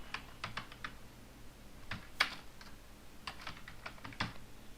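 Soft computer keyboard typing during HTML coding, scattered bursts of quiet keystrokes with short pauses between clusters, heard close and alone.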